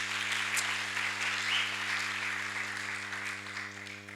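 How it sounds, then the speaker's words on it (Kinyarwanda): A congregation at a Rwandan church service claps in praise, a sustained wash of applause that swells slightly and then eases, over a steady low hum. "Reka dukomere Imana amashyi"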